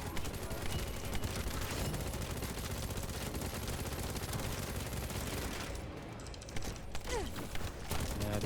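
Dense, continuous automatic gunfire from The First Descendant, a sustained loud barrage of rapid shots that thins briefly near the end before resuming.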